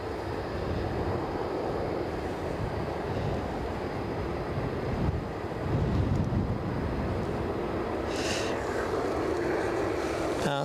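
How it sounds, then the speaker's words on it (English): An EasyJet airliner from Belfast on final approach to Edinburgh airport, a steady broad engine roar heard from a distance through wind noise, holding level throughout. "Final approach, EasyJet from Belfast."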